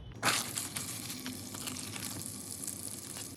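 Aval roti, a thin flattened-rice flatbread, placed into hot oil in a pan: a sharp splash at the start, then a steady soft sizzle and crackle of frying, fairly quiet and without talk.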